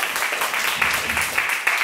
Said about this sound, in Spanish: Aleluya, den un aplauso a Cristo.